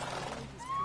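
Roach the horse neighs in The Witcher 3, a short whinny rising in pitch near the end over steady game ambience.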